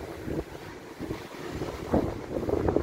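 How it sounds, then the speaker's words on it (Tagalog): Strong gusts of wind buffet the microphone in uneven rushes, roaring close and loud with no voices. "Ang lakas ng hangin dito ngayon."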